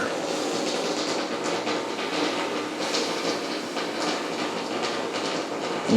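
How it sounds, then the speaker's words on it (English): Hot water gurgling and hissing inside the hose of a Wagner Power Steamer 715 as condensed water collects in the line, a steady close broadband rush lasting throughout with no talk. "You can kind of hear the bubbling, I assume is whatever"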